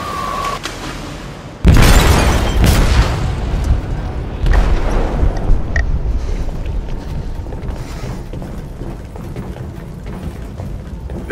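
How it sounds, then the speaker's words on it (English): An explosive detonates in a ship's hold in the video game Detroit, one sudden loud blast followed by a long, heavy rumbling roar that slowly fades but lingers. "Detonated an explosive in the hold."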